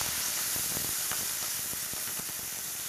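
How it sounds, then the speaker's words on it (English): Red wine hitting a hot pan of mirepoix of carrots, celery and onion, a loud steady sizzle broken by crackling pops and occasional stirring scrapes, close and continuous with no talk. "Now I'm going to deglaze that with red wine"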